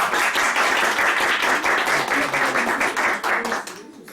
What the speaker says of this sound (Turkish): Hadi alkışlayın.